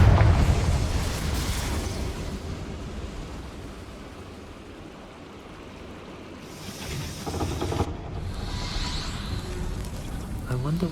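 Confringo explosive spell blast in Hogwarts Legacy, a heavy booming roar at the start that fades to a low rumble, then a second surge of crackling blast noise, loud and close.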